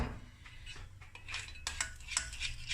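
A utensil stirs partly melted chocolate in a bowl, producing soft scraping strokes and occasional light clinks, close and moderately quiet.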